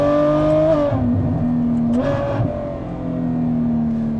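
A Ferrari F12 Berlinetta's engine roars loud and close at night, revving up and shifting with rising and falling tone, no voices over it.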